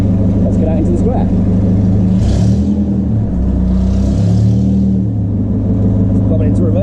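A 1929 Blower Bentley pulls away in first gear into a town square at Le Mans, its engine a loud, deep rumble that rises as it moves off. Someone speaks over the engine.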